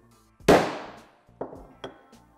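Lixie dead blow mallet striking soft pine wood: one hard, loud thud with a short ringing decay, then two lighter knocks about half a second apart.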